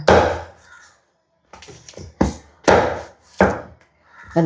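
A knife chops vegetables into small pieces on a board in a series of five or six close, loud strokes with short pauses between.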